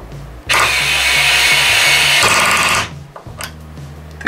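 A Parkside PAS 4 B2 cordless mini screwdriver whirs loudly and steadily for about two seconds, its clutch slipping, then stops with a few short clicks and knocks from handling.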